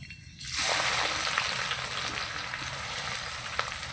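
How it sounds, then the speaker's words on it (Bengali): Chopped onions hitting hot oil and frying to a crisp beresta for a fish dish, a sudden loud sizzle that settles into a steady, close hiss with faint crackles. "পেঁয়াজটাকে ভালো করে ভেজে বেরেস্তা করে নেব।"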